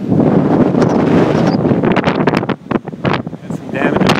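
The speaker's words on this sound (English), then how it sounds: "Say wind is about 40 miles an hour" Strong hurricane winds of about 40 miles an hour roar across the beach at Gin Lane in Southampton during Hurricane Sandy, buffeting the microphone in a loud, continuous rush with gusty swells and brief dips.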